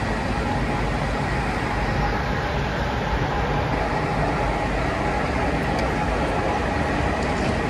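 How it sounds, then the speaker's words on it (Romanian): A passenger train pulls out of the station at Războieni, Romania, bound for Cluj-Napoca and Baia Mare. It sounds as a constant, dense rumble of rolling wheels and running noise that stays loud and unchanging throughout, with no voices. "Pleacă și trenul nostru către Cluj-Napoca și Baia Mare."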